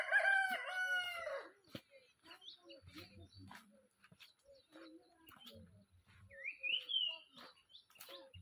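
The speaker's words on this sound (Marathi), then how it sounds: "आणखी एकदा तुम्हाला दाखवतो कोंबड्या" A rooster crows loudly at the start on a farm, followed by softer clucking from chickens and brief chirps, with a second rising crow-like call near the end; quiet talk surfaces in places.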